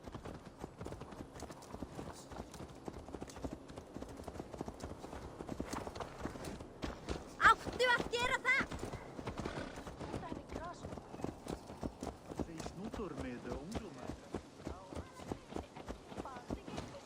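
Horse hooves clip-clop steadily in Assassin's Creed Valhalla, a brisk rhythmic patter of quiet, distant-sounding steps running throughout over faint background sound.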